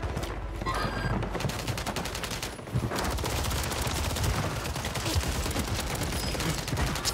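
Heavy gunfire rattles through a Call of Duty Modern Warfare 3 Warzone match, with dense rapid automatic bursts and a brief pause before the shooting resumes, loud and close.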